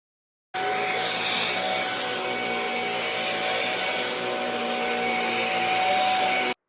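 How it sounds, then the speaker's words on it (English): A Shark Rocket Deluxe Pro cordless stick vacuum in carpet mode runs loud and steady with a constant high whine and airy roar, starting abruptly and cutting off cleanly. "I'm going to show you what it sounds like when you make that switch over to carpet."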